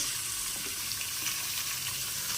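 Onion frying in hot oil in a pan, a steady broadband sizzle with faint crackles and occasional stirring, continuous and close with no talk.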